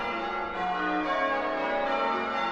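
Church bells ring from a stone tower in a steady, sustained wash of overlapping tones, loud and even throughout, with no voices.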